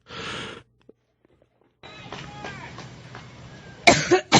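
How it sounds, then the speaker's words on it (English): One person coughs, then after a pause a crowd murmurs with scattered voices, followed by a couple more sharp coughs close by. "go back to the coughing"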